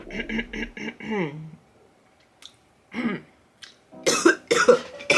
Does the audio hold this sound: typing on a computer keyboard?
no